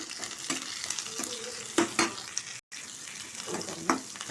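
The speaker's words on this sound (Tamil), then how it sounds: "2 நிமிஷம் நல்லா வதங்கட்டும்" Dried red chilli, crushed garlic, green chilli and curry leaves sautéing in a pan give a steady close sizzle, broken by a few louder stirring scrapes and a brief dropout.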